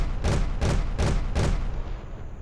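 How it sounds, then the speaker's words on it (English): A stomp percussion sample in an FL Studio trap beat plays four heavy, evenly spaced hits with a booming, broadband thud, each one close and punchy, followed by a short quiet tail. "I also have this percussion, and it's more like a stomp."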